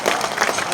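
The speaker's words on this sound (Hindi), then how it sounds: "ताली टिका के" Crowd clapping at a political rally in Kishanganj, a dense wash of applause that fills the short moment loudly and evenly, with no clear talk over it.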